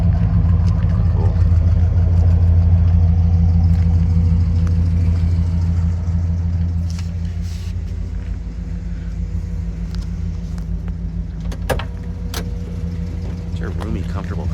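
A 1965 Chevrolet Caprice with a 396 big block V8 and added exhaust idles nearby with a deep, steady rumble that eases slightly partway through, followed by a few light clicks and taps.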